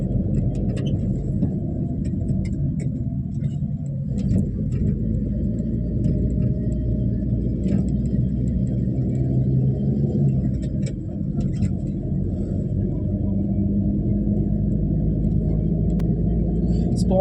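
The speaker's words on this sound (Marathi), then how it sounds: "गाडी आपली कमाल आहे मित्रांनो. डिझायर म्हणता येईल, डिझायर साधी गाडी नाही आहे" A Maruti Dzire car drives along a narrow single-lane ghat road, its engine giving a steady, close low rumble throughout with people talking over it.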